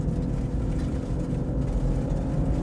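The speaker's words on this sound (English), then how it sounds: "driving a Raptor 70 miles an hour through the desert" Ford Raptor R pickup driving fast, around 70 to 78 mph, on an undulating desert dirt road, its engine at a steady 4,000 to 5,500 RPM: a continuous loud low drone and road rumble, close and unbroken, with no talk.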